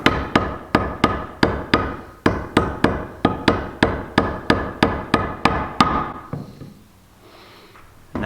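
Mallet driving a chisel into wood to cut a tenon shoulder along a marking line on a trestle table leg from a yard tree: about twenty sharp, evenly spaced strikes, close and loud, then a brief quiet pause.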